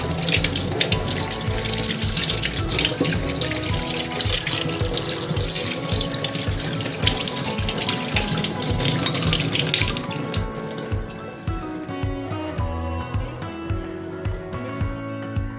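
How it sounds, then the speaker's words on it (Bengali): Pabda fish being rubbed and washed with salt under a running kitchen tap: a steady loud gush of water that thins toward the end into lighter trickling and splashing, with small clinks. "পাবদা মাছগুলোকে জলের মধ্যে ভালো করে নুন দিয়ে ভালো করে পরিষ্কার করে ঘষে ধুয়ে নিয়েছি।"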